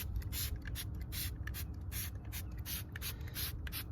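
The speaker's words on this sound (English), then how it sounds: "take your spray bottle with your soapy solution and basically just very liberally cover this area" A spray bottle of soapy solution is pumped liberally onto a Tesla Model Y car door, giving a quick run of sharp, hissing spray bursts close by, with no talking.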